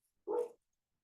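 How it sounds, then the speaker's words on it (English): A single short dog bark, fairly faint and somewhat distant, standing alone against silence. "Oh my God, that dog."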